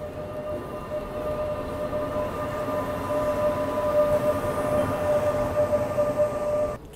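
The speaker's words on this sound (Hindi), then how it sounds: "खैर दूध दुरंतो तो यहाँ निकल गई" A milk van train, the Doodh Duronto, passes through Renigunta Junction without stopping, a steady, fairly loud rolling rumble with a sustained horn-like tone running through nearly the whole stretch, then cutting off abruptly at the end.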